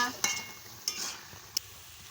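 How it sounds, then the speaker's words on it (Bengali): Spinach chorchori with potato, aubergine and kundri being stirred in a pan: three sharp scrapes of a spoon over a steady low sizzle, close and fairly quiet. "দিয়ে ভালো করে নাড়িয়ে নিচ্ছি"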